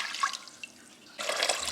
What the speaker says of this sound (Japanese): 水を加えていきます